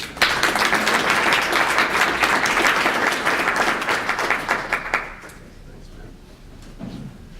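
An audience at a business conference welcomes the first speaker with loud, sustained applause for about five seconds, then it fades out and a voice begins speaking.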